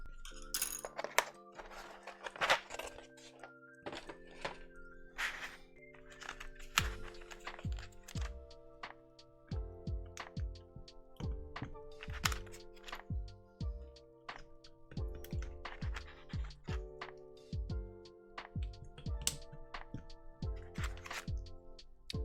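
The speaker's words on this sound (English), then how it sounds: "I'm putting the wrong keycaps on" Mechanical keyboard keycaps, including a 7U bottom row, are pressed onto a board in a steady run of light plastic clicks and clacks, close up, with soft background music underneath.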